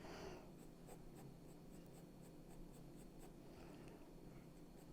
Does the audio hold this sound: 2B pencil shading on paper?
yes